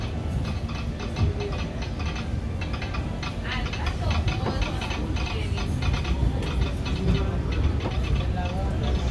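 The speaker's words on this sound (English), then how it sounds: "welcome aboard the Disneyland Railroad." Steady rumbling and rhythmic clattering of the Disneyland Railroad train on rails, loud and continuous from inside the ride, with faint voices blended in.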